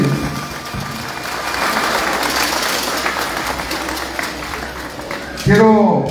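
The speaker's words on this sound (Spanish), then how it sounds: "yo pido un aplauso nuevamente para los invitados especiales" Applause for special guests at a municipal party committee swearing-in ceremony in Ocosingo, a broad, fairly loud crowd clapping through most of the clip, then a voice speaks near the end.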